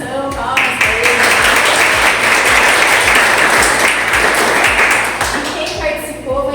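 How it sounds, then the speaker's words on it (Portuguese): An audience applauds participants at the close of a talk on self-discipline. The loud, dense clapping lasts about five seconds, with a brief voice heard before it and again as it fades. "palmas para eles"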